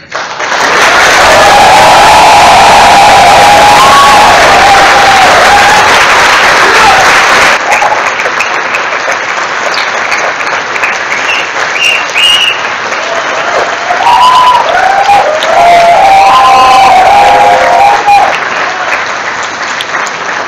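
Long, loud applause fills a university graduation ceremony hall, sustained crowd clapping with some cheering, easing slightly midway and swelling again, with voices faintly mixed in.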